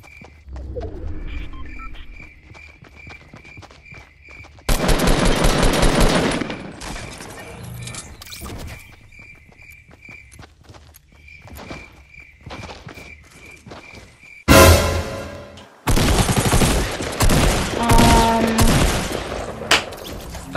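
Bursts of automatic gunfire in the video game Fortnite Battle Royale, loud rapid fusillades separated by quieter stretches with footsteps and game ambience, no talk.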